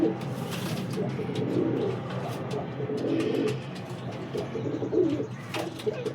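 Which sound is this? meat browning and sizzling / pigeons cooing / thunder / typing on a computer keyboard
pigeons cooing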